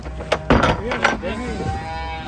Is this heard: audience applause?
no